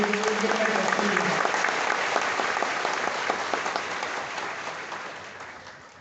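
An audience at a company presentation applauds the factory R&D team, a broad, dense wash of clapping that stays strong before gradually fading toward the end, with a brief voice at the start.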